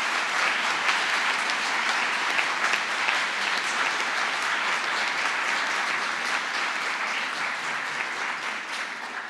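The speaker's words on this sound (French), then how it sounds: "je crois vraiment qu'on peut les applaudir très, très fortement" A large audience at a law faculty event applauds loudly and steadily for the full stretch, a dense wash of clapping that fades slightly toward the end.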